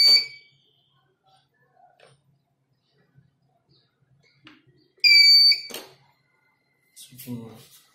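Beeping from a quadcopter drone's flight controller alarm, two short bright electronic tone bursts, one at the start and a longer one midway, separated by near silence with faint handling noises.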